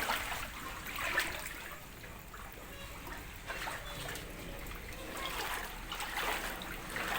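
Water runs into a flooded room in a home, a soft continuous trickling and splashing heard at low level with slight swells, and no clear speech over it.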